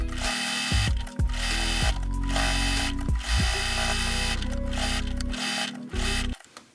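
A sewing machine zigzag-stitches along the edge of quilted fabric scraps, running in fast mechanical bursts with short pauses between them, close and steady with no voices.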